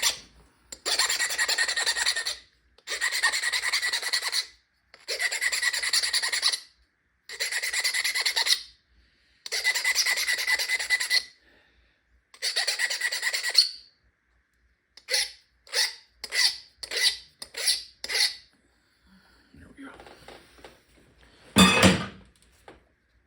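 A flint point's edge is thinned by abrading it, producing six long, even rasping strokes and then a quicker run of short scrapes, ending in one sharper, louder scrape.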